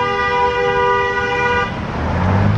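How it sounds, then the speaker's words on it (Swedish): Car horn honking in Mexican street traffic, a loud sustained blare lasting over a second before cutting off into the rumble of passing vehicles and road noise. "Men än så länge så funkar allas tutor."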